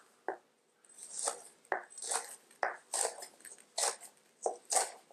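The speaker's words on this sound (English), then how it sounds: "gently walk that knife through it" A knife slicing through a bell pepper on a cutting board, with about nine crisp, close cuts coming in a steady, unhurried rhythm and no talking between them.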